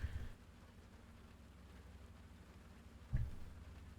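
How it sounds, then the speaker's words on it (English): Steady soft rain falling in the tank game GHPC, a continuous faint hiss with a low rumble underneath and a brief louder thump near the end; no one speaks. "It's raining."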